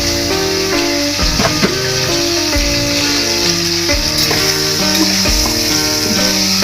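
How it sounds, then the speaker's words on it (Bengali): Paneer pieces hit hot oil in a kadai and fry with a steady, loud sizzle and hiss that runs unbroken throughout, with no voices. "এবার কড়াইতে পনিরগুলো ছেড়ে দিলাম।"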